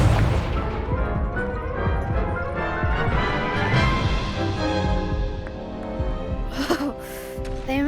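A loud blasting explosion from the Confringo spell in Hogwarts Legacy, set against a dense, sustained game soundscape with booming impacts and crashes, and a sharper burst near the end.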